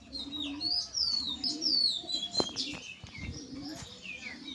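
Pet budgerigars chirp in a cage, a busy overlapping chatter of high warbling calls, with a few soft flutters and knocks mixed in, fairly close and steady throughout.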